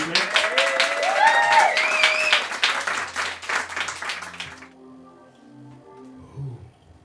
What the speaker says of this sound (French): Donc un tonnerre d'applaudissements s'il vous plaît.